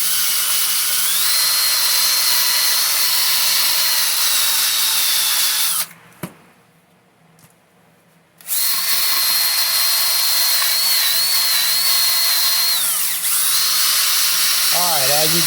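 Power drill spinning a nylon cleaning disc against the metal of an outboard motor, a loud steady high whine that stops briefly mid-way, then resumes and winds down at the end.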